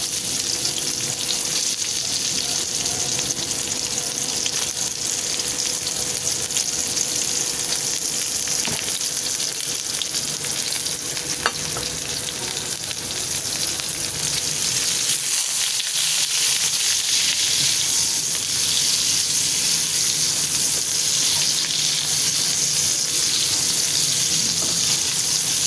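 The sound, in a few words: onion and garlic frying in a pan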